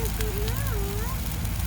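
A large outdoor bonfire burns with a steady, dense crackling roar close by, while voices talk over it.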